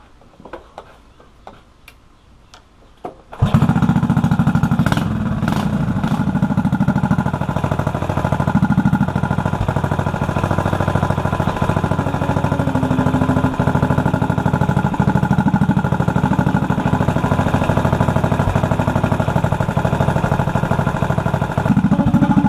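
Engine fitted with a modified, freshly welded exhaust pipe fires up after a few quiet seconds of faint ticking, then runs loud and steady at a rumbling idle, close to the microphone.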